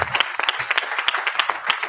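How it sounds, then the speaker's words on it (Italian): A small audience at a Google I/O Extended event in Catania claps for a speaker, a brief burst of separate, close handclaps with a loose, uneven rhythm. "io faccio un applauso a Dario perché"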